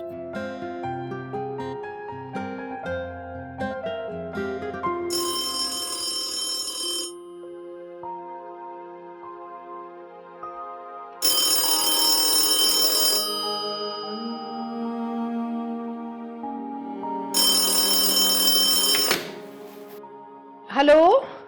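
Telephone ringtone in a Pakistani drama serial: three loud bursts of a bright electronic ring separated by stretches of background music, then a brief thump at the end.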